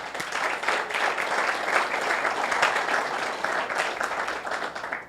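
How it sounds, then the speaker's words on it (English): A crowd at a tech meetup gives a round of applause for their science museum hosts: steady, dense clapping that runs evenly for several seconds and fades slightly at the end. "So let's give them a round of applause."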